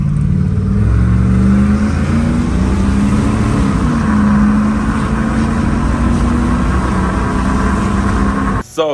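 A Jeep WJ with its exhaust removed, accelerating and revving in a loud, raw, continuous engine drone that rises and holds, close up, ending with a brief cutoff.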